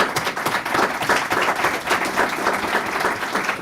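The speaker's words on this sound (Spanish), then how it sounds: "Un aplauso para José, para ustedes" Warm, sustained applause from an audience at an academic medical residents' session, even and continuous from start to finish without talk over it.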